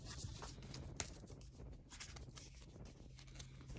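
Oracle cards being shuffled by hand, a soft continuous papery riffling and patter with small taps, close and quiet, steady across the few seconds with no talking.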